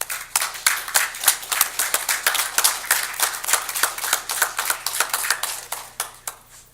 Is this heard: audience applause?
yes